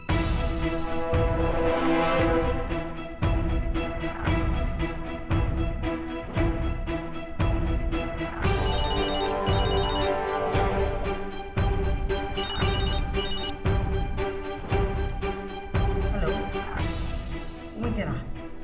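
A telephone rings in a Burmese drama scene during a phone call, giving a loud, steady run of repeated bright ringing pulses that carries on for the whole stretch.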